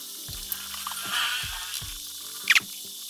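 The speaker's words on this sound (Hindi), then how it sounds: "अब हमने इसमें लहसुन अदरक का पेस्ट डालना है।" Garlic ginger paste hits hot oil in a pan while fry daal mash is cooked, giving a short sizzle with a few clinks and a brief sharp spatter near the end, close by with no talk.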